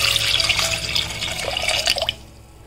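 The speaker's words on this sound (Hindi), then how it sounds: "डेढ़ ग्लास इसमें पानी डाल देते हैं" Water poured into a pot of drumstick soup seasoned with crushed black pepper and salt, a steady splashing pour for about two seconds that stops abruptly, close and moderately loud with no talking.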